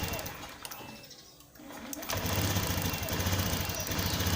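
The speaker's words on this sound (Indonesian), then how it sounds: "Kita dengarkan baik-baik ketika kondisi mesin nyala ya." A Honda Scoopy FI fuel-injected scooter with a sputtering, stalling engine. It runs quietly at first, then surges at about two seconds into a loud, steady, buzzing idle heard up close.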